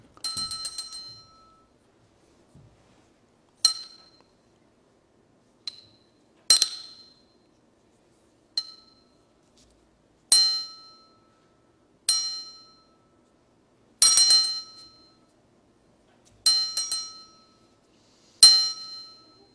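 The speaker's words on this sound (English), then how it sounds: "ring the bell 7 times" A church bell is struck seven times in a Sunday worship service, each clear ring spaced a couple of seconds apart and decaying into silence between strikes.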